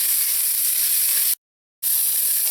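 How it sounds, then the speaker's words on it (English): Garlic and ginger sizzle in warm oil over low to medium-low heat, a steady bright frying hiss close to the pan, briefly cut to silence midway before resuming at the same level. "add in some garlic and some ginger. You want this to saute in here on low or medium low."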